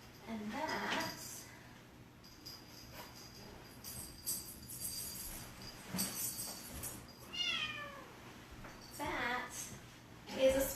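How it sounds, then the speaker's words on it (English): A small pet cat meows a few times in a home setting, short rising calls heard over a faint background hum with some nearby clinking. "So there's a sweet little cat."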